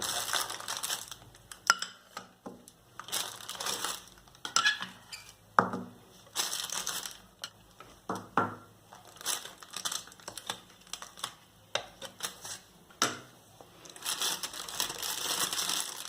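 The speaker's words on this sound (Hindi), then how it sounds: "और अब एक स्पैचुला या नाइफ की हेल्प से अब हम इसके अंदर व्हिप्ड क्रीम डालेंगे" A spatula scrapes and presses whipped cream into a piping bag, giving close, irregular crinkly rustles of plastic and soft squishing in scattered bursts, with quiet pauses between them.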